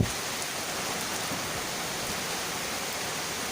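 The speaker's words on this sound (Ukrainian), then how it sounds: "І ось бачите і дощ." A heavy downpour falls steadily in a garden, a dense, even hiss of rain on surfaces that stays close and constant throughout without pauses.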